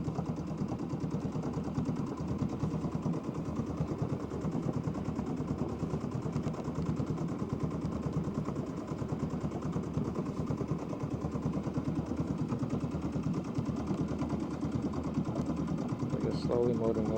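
A small outboard motor drones steadily as it pushes a boat through iceberg-filled Alaskan waters, a rapid chugging putter held at an even level for the whole stretch, with no voices over it.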